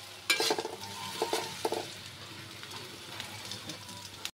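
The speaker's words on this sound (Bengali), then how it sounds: "পেঁয়াজটা একটু ভেজে নিচ্ছি" Sliced onion sizzles in hot mustard oil while a spoon scrapes and stirs it in several quick bursts, followed by a steady, softer frying hiss up close.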